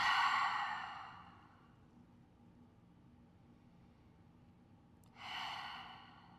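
Deep, slow yoga breath, a strong airy inhale, a long quiet gap, then a soft breathy exhale, close and gentle in a calm room.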